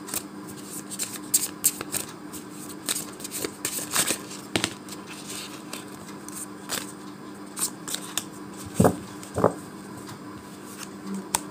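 Tarot cards being shuffled by hand, with repeated soft riffling and flicking bursts and occasional sharper taps, fairly close and irregular in rhythm.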